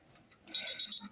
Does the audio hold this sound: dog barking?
no